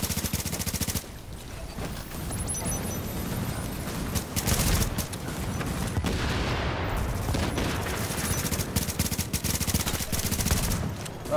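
Gunfire and a grenade in a shooter video game: rapid bursts of close shots, with a louder blast and rolling rumble near the middle, and dense firing continuing to the end.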